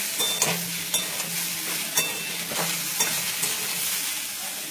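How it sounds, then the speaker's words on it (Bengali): Mixed vegetables for sambar fry in a hot pan with a constant sizzle, while a utensil stirs them, scraping the pan about once a second in regular bursts. "এই সবজিগুলো অলমোস্ট ফ্রাই হয়ে গেছে, ভাজা ভাজা হয়ে গেছে"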